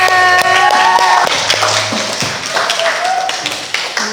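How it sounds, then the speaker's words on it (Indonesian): Classroom audience clapping together during a teacher training lesson, a loud, dense patter of hand claps filling the room with voices mixed in. "tepuk tangan untuk kita semua"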